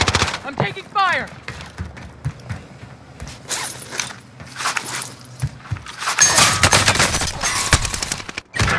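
Assault rifle fire in a Call of Duty: Modern Warfare match, rapid bursts of automatic shots and clattering impacts, loud and close, mixed with game effects and a voice speaking early on.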